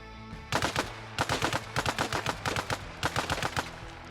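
A World War II special forces submachine gun fires in Arma Reforger, with six or so sharp, rapid bursts of closely spaced shots separated by brief pauses, loud and close with no talk.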